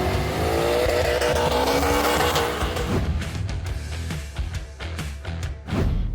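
A Mazda Miata drives a winding mountain road, its engine loud and sustained as revs climb and fall through gear changes, with brief tire noise near the end and no talk.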